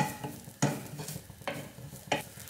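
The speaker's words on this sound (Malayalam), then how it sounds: "നാളികേരം ഇതുപോലെ റോസ്റ്റ് ചെയ്തെടുക്കാം" Grated coconut roasting in a pan while being stirred, a soft dry sizzle under rhythmic scraping strokes repeating about every two-thirds of a second, close and quiet.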